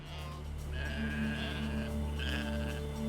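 Sheep bleating, a few drawn-out nasal calls rising over a low steady hum, fairly faint and without any talking.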